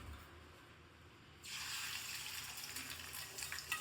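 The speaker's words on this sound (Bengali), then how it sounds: "বাহ, তেলের মধ্যে ডিমটা ছেড়ে দিল, ভালোই।" An egg dropped into a pan of hot oil sets off a sudden, steady sizzle that begins abruptly and then crackles on continuously at close range.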